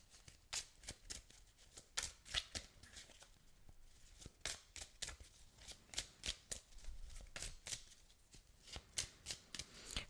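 Tarot cards being shuffled by hand, a close, soft series of rhythmic riffling and slapping bursts repeating steadily with short gaps and no talking.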